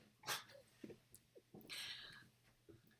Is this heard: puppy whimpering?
yes